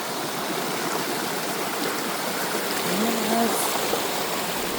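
A river stream flows on a trail trek to Mt. Pinatubo, a loud steady rush of water that fills the whole stretch, with a short spoken word and a faint tonal chirp partway through.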